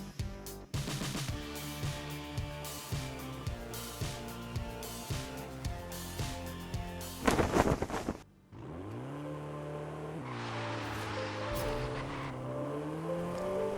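A 1990 Mercedes-Benz 190E Evolution II in Forza Horizon 5 revs hard through repeated upshifts, each climb cut by a gear change, then a sharp burst, a brief drop and a sustained steady engine whine to the end, with no voices.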